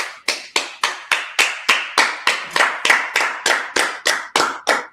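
Audience at a Purim feast gathering clapping in unison, about fifteen sharp, evenly spaced loud claps in a steady rhythm with a slight room echo and no talk.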